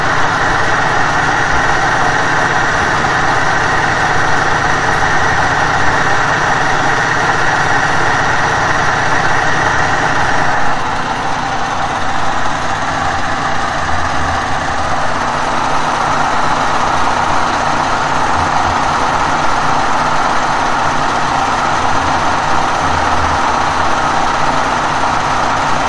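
Engine of a peanut machine rigged to drive an electricity generator, running steadily throughout, a loud, continuous idling drone with a shift in tone partway through.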